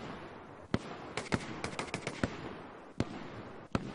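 Single and paired gunshots fired as signals in Hell Let Loose, sharp isolated cracks at uneven intervals with a few quick clusters of shots against a low background battle rumble.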